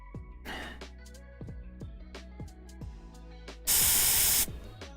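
A mist sprayer gives one loud sustained hiss for under a second. Sharp clicks and a low hum come before it, and the hiss ends as abruptly as it starts.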